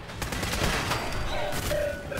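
Rapid turret gunfire in the Fallout 4 video game (Automatron DLC), a dense continuous volley of shots and impacts, loud and sustained throughout.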